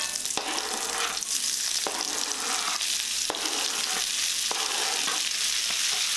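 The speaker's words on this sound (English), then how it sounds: "next step, get the onions in the pan" Onions frying in bacon grease in a pan give a loud, continuous close-up sizzle, with regular scraping knocks as they are stirred. No one speaks.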